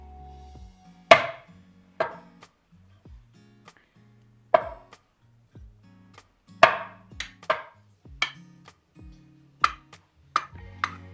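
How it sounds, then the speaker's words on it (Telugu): A knife cuts through boiled eggs on a cutting board in a home kitchen, a series of sharp, separate chops with irregular gaps between them, close and clear with no talk. "ఎగ్స్ తీసుకోండి వీటిని కట్ చేసేయండి"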